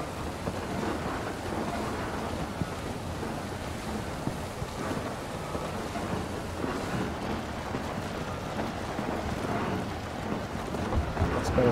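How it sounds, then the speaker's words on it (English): Steady rain with low rumbling thunder and gusty wind noise in the video game Tears of the Kingdom, a continuous stormy wash with no clear breaks. "Can't see much of anything with the rain."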